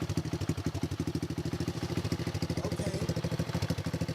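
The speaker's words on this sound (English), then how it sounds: "I'm gonna go ahead and start it with the new carburetor" A pocket bike engine fitted with a new carburetor runs steadily nearby, its fast, even putter continuing throughout, with one short spoken word partway through.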